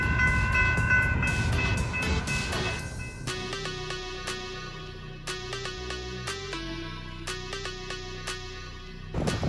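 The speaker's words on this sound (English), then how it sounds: "there's a freaking train track right behind our building. And sometimes these trains go for, I don't know, 20, 30 minutes," A long freight train rolls along tracks right behind a building, a steady rumble with rhythmic clacks of wheels over rail joints and a sustained horn tone at the start, heard up close throughout.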